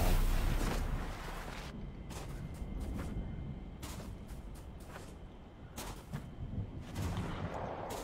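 Gunfire in the video game Fortnite, a run of sharp broadband shots cracking out in irregular bursts over a constant rumbling game backdrop, some nearer and louder, others more distant.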